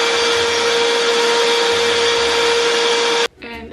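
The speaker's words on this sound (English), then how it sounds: "Okay, so I've got my blender right here. This is a Vitamix." A Vitamix blender pureeing fruit with lemon juice runs as a loud, steady roaring whir up close for over three seconds, then cuts off abruptly into a brief moment of quieter sound.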